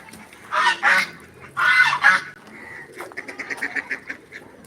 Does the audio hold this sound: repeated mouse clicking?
no